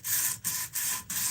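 A wooden spoon being hand-sanded, three or four rough, raspy strokes each lasting about a third of a second, separated by brief pauses, close and fairly quiet.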